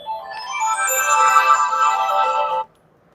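A phone ringtone plays loud and steady as a bright, repeating electronic melody for about two and a half seconds, then cuts off abruptly into near silence.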